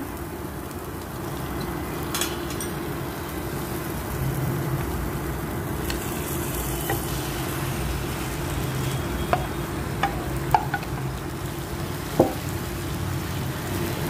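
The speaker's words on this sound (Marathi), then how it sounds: "आपण ह्याच्यामध्ये किमा टाकून घेऊया." Minced chicken keema stirred and frying in cooked masala in a pan, with a steady low sizzle and a few sharp clicks of a spoon against the pan.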